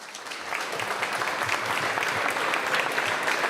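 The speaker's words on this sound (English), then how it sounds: "let's give our teams that are competing this weekend a massive round of applause" Massive round of applause from a press-conference audience for the sailing teams competing in the Louis Vuitton Preliminary Regatta in Sardinia, steady dense clapping that swells after a brief start and holds loud throughout.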